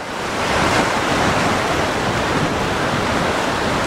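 Sea waves breaking on a gently sloping shore at Burnham-on-Sea, Somerset, England, during a spring tide, making a steady, loud broadband wash of surf with constant roar and no voices.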